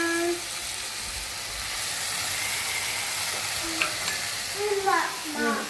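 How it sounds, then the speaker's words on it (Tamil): Onion and capsicum sauté in a hot pan, giving a continuous close sizzle with occasional stirring scrapes, and a voice speaks briefly over it near the end. "ஆனியன் போட்டு கொஞ்சமாக வதங்கினதுக்கு அப்புறமா நம்ம கேப்சிகம் சேர்த்துடலாம்"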